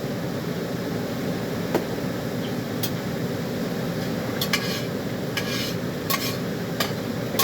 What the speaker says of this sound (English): So I'll put that rice in here.